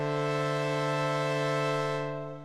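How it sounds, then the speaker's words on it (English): A basic synthesizer pad patched in VCV Rack holds one steady, rich chord with a buzzy harmonic tone before fading out near the end. "in this video I'm going to take a really basic pad sound like this"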